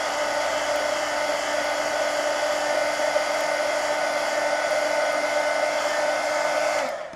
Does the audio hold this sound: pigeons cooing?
no